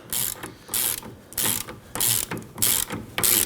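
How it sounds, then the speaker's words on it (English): Ratchet wrench with an 18mm deep socket snugging a rear sway bar link nut on a 2001-2009 Volvo S60, five loud bursts of rapid clicking separated by short pauses, close up with no talk. "Just going to use our 18mm deep socket here."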